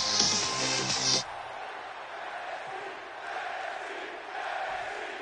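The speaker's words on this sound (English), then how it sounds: "the crowd chanting NXT" A wrestling video game crowd chants NXT in a steady roar as the arena noise carries on after a loud musical entrance, with no voices talking over it.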